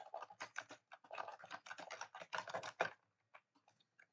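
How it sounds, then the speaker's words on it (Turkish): Rapid clattering of a computer keyboard, bursts of quick keystrokes close up, then a few scattered taps near the end. "Umarım klavyenin fazla, sesi fazla gelmiyordur."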